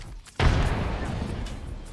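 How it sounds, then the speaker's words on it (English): A grenade explodes in Apex Legends, a sudden loud boom that swells in at once and leaves a dense rumbling roar that lingers to the end of the moment. "Grenade."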